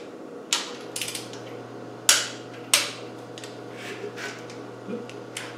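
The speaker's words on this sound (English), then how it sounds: "So now we'll tighten up the bolts in an even fashion." A socket tightens the flywheel bolts on a Spanish 110 tractor, with a few sharp metallic clanks and light ratcheting clicks spaced over a low steady hum, close by and without talk.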